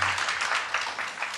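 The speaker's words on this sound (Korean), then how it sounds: "격려의 박수 보냅니다." A church congregation at a Sunday worship service claps in encouragement for one another, a brief, soft patter of applause heard from a distance that sounds thin and muted.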